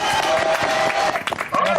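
Studio audience applauding on a French TV entertainment show, a dense wash of clapping with some cheering, steady and loud for the whole stretch, with a faint voice over it.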